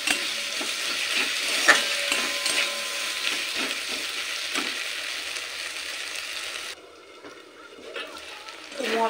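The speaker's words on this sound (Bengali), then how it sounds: "এবার মশলা আর পেঁয়াজ টমেটো সমস্ত কিছু একসাথে খুব ভালো করে কষিয়ে নিতে হবে তেল ওঠা পর্যন্ত" Spice paste, onion and tomato sautéing in oil in a pan for an echor chingri curry, a steady close sizzle with scraping stirs throughout, quieting toward the end.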